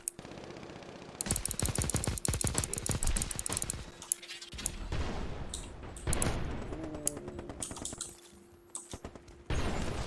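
Dense bursts of ATR rifle fire in a video game, rapid overlapping shots crackling in fast rhythm and gaps, loud and close, with a low steady tone running underneath.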